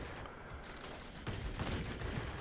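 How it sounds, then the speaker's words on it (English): A 37 millimeter cannon on a warplane in World of Warplanes fires in a short rapid burst of faint thuds under a constant airborne engine drone. "major upgrade, which is a 37 millimeter cannon"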